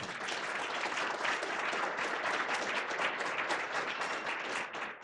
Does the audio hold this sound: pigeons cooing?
no